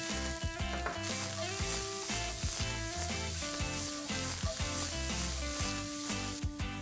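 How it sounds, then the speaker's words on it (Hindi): Onion hits hot oil or ghee with crackling mustard seeds for a bread masala, giving a continuous soft sizzle. It sits fairly quietly beneath rhythmic background music. "यहां पर मैं डालने वाला हूं राई। इसे क्रैकल होने देंगे। यहां पर डालेंगे प्याज।"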